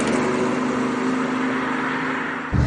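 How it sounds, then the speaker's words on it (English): A BMW plug-in hybrid plays a synthetic V8 engine note inside the cabin, a steady, loud drone that swells near the end as the car accelerates, with no talking. "It sounds like a nice V8. BMW has won me over with their fake sound."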